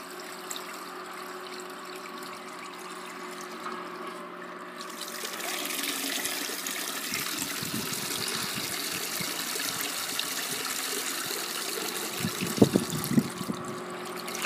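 Water pours and trickles out of a heavy, soaked pool filter sock, rising after a few seconds into a steady close splashing gush, with a few sharper knocks near the end and no talking.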